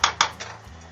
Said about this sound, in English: clamp on the lid